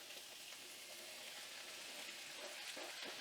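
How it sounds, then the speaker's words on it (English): Carrot and onion hit hot oil in a wok, giving a faint, steady sizzle and crackle of stir frying that runs evenly throughout with no voices. "I have a little bit of oil in our wok over here, and so I'm going to start adding veggies."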